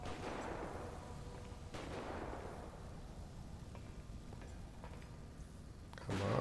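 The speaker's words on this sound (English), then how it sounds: "Oh my god, more shooting. All this shooting" Gunfire in GTA 5 around a military base during a firefighting mission, heavy booming shots and blasts over a constant rumbling game background.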